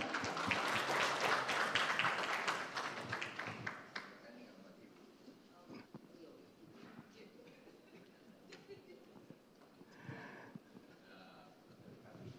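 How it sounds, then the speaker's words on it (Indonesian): Loud applause from a crowd fills the first few seconds, then fades to scattered claps and murmuring room noise with faint voices. "Kita berikan tepuk tangan yang meriah."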